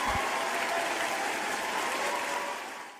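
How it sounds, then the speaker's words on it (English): A room full of people applauds steadily, a dense wash of clapping that holds loud and even for about three seconds before tapering slightly at the end, with no talking over it. "Let's give her a round of applause."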